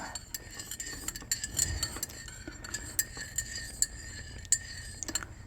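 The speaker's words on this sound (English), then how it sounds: "Always stir your tea clockwise" A spoon stirs tea in a cup, with bright repeated clinks of metal on the rim as it circles, soft and close against a quiet background.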